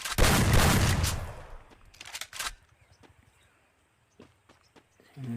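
Gunfire from a shooting video game: a dense burst of loud rapid shots, then a few sharper separate cracks and scattered clicks or footsteps with quiet gaps between them.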